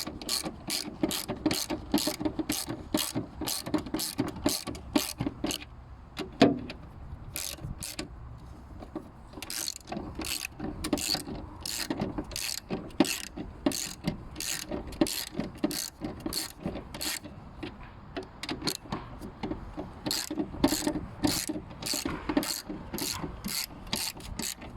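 Someone works a socket ratchet to tighten 13 mm nuts on the fuel filter of a Mitsubishi L200, a close, dry run of rapid clicking pawl strokes repeating in bursts, with small pauses between them.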